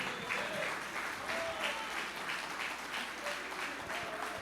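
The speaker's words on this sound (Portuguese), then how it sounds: "Dá um aplauso ao Senhor pela vida dos músicos." A church congregation applauds the musicians, steady sustained clapping from a crowd filling the hall, moderately loud and continuous with faint voices underneath.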